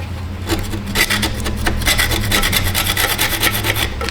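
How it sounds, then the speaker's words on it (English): A caliper file scraping thick corrosion off a brake caliper on a 2014 Tahoe, a close, loud run of rough rasping strokes in quick rhythmic succession. "we're just going to use our caliper file. Get off the thick chunks."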